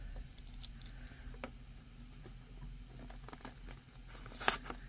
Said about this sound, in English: Get out my Pikachu scissors.